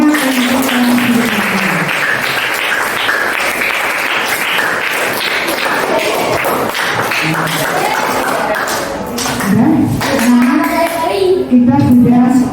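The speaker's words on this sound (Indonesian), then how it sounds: "Kasih aplaus, tepuk tangannya untuk yang sudah." Children in a classroom clap and applaud steadily for several seconds, with kids' voices chattering over the clapping.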